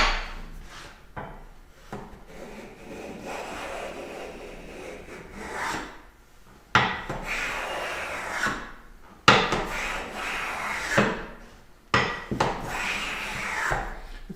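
Lubricant is rubbed onto the sole of a wooden hand plane in several bursts of dry, scratchy friction strokes separated by short pauses, close and fairly loud.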